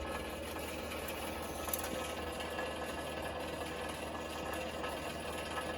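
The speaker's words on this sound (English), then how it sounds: "Sorry about the heater noise." A room heater runs steadily throughout, a constant broadband whir and hum with a faint mechanical rattle, fairly loud and unbroken, with no speech over it.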